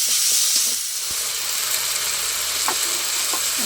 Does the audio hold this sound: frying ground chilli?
yes